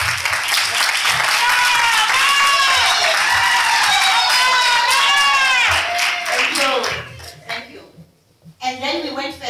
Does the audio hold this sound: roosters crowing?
no